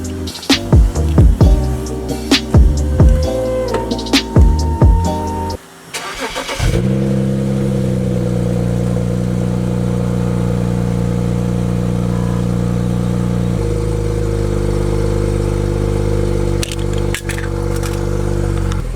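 A stock-exhaust BMW 335i with the N54 engine revs in a series of sharp blips, then holds a loud, steady idle drone that shifts pitch partway through, recorded close with no talking.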